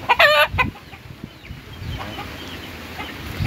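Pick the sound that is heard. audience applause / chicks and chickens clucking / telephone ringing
chicks and chickens clucking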